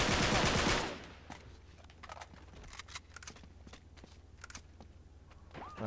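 Gunfire in the video game Uncharted 3: Drake's Deception opens with a loud burst, then continues as scattered sharp shots and short rattling volleys at a moderate distance.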